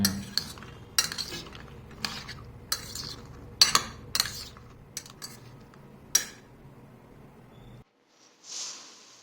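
A utensil clinks and scrapes against a dish at irregular intervals as food is mixed with a little salt, close and fairly quiet, followed by a brief pause and a soft rustle.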